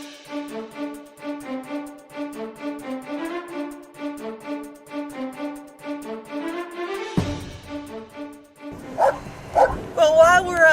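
Dogs bark and yip over and over in a busy indoor hall at a dog expo, with a steady tonal backdrop and voices talking near the end.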